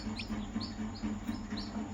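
A newly hatched native country chick peeps in a home hatching setup, a run of short high chirps repeating every half second or so, faint and alone over a low steady hum.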